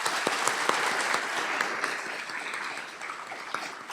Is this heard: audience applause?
yes